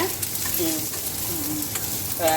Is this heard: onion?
yes